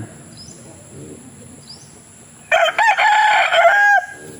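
A rooster crows loudly and close by, one long strained call after a quieter stretch of faint background chirping.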